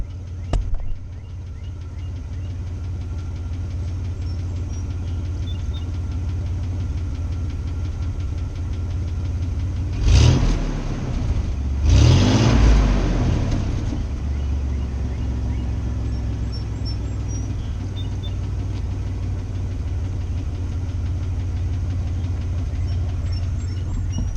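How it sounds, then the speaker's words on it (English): Chevrolet Astro van engine, after a motor flush and still smoking, idling with a rough, knocking rumble, then revved twice in quick succession around the middle before settling back to a steady idle. "Let's rev it up and see what it does."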